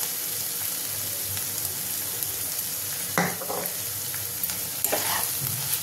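Dried lote shutki fish bhorta fries and is stirred in a pan: a steady, even sizzle runs throughout, with a couple of brief scraping stirs standing out near the end.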